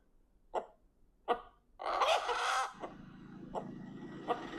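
A rooster in a village-set Tamil film trailer lets out a few short, sharp clucks, then one loud, rough crow, followed by quieter clucks. No one speaks.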